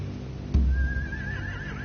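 A horse in the video game The Walking Dead gives a single sharp whinny that rises then trails off in a wavering neigh, fairly close and alone, over a low background hum.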